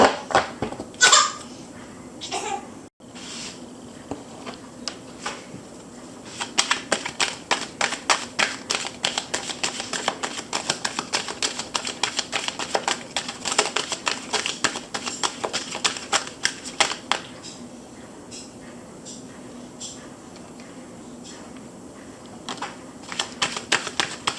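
Tarot cards are shuffled by hand in rapid riffling bursts of crisp, close flicks and slaps that continue steadily over a quiet room, with a brief soft voice near the start.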